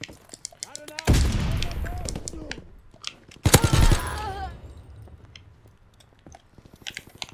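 Gunfire in a WW2 video game: two loud bursts of shots stand out, one early and another midway, amid quieter game noise and scattered clicks.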